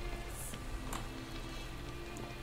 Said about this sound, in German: Dann mag ich den Minecraft-Regen